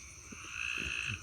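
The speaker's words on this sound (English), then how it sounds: "Frogs are out again" A dense chorus of tree frogs croaking steadily, with a continuous high trilling drone and a few lower croaks, fairly close and without any voices.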